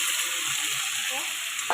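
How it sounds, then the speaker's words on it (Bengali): Chicken and potatoes stir-frying in a pan with onion, ginger and garlic, giving a steady, close hiss of sizzling oil with light stirring scrapes. "এই কষিয়ে নিচ্ছি, খুব সুন্দর কালার এসেছে না?"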